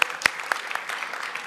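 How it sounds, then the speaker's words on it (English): Scattered clapping at an awards gala after a golf closest-to-the-pin winner is named, a handful of sharp individual claps standing out from a thin, fairly quiet patter over about a second and a half. "We got to give him a round of applause."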